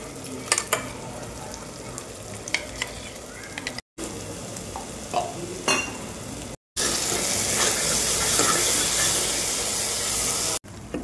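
Ground masala and onions sizzle and crackle in hot oil while being stirred and sautéed until the oil separates. A close, steady frying hiss is broken by brief cuts, with a louder, denser sizzle in the later part.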